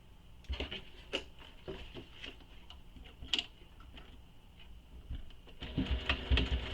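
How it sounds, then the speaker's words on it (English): A sewing machine stitches back over existing top stitching on a fabric backpack, giving a run of close, rapid ticking needle strokes with brief pauses and a louder burst near the end. "So I'm going to have to stitch back over my top stitching."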